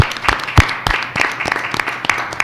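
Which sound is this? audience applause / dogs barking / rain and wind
audience applause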